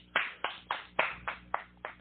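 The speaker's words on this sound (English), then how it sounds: "I'm the only one clapping." One person claps alone, seven sharp, evenly spaced hand claps at moderate loudness in a quiet room with no other voices.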